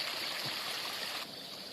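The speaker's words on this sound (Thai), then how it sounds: "นี่ครับผม น้ำไหล" Water rushes and hisses steadily like a flowing stream past a fish trap, close and constant, easing slightly toward the end.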